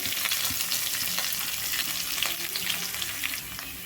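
Chopped medium onion frying in a pan with curry leaves, a steady close sizzle with crackling spits and occasional stirring scrapes throughout, no voices.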